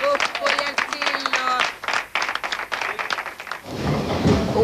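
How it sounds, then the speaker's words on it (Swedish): Audience applause with whistles and cheers from a crowd at a gathering, dense and sustained clapping that fades briefly then swells again, with voices mixed in near the end. "en stor applåd för alla som har kommit hit och ställt upp och hjälpt till"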